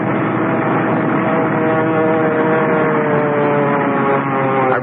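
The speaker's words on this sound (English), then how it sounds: "I remember the plane landing and then shearing sideways before I had time to cut the engines." Loud, steady roar of a landing plane's engines in a radio drama, a dense sustained drone with shifting engine tones that holds throughout; no distinct skid or impact stands out.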